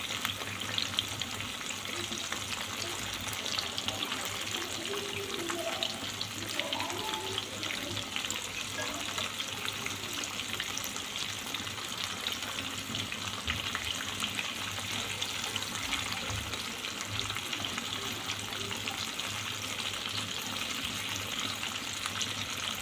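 Marinated chicken pieces frying in a pan of hot oil, turned until browned and crisp, give a dense, steady crackling sizzle throughout, with occasional soft stirring and scraping noises mixed in and no talking.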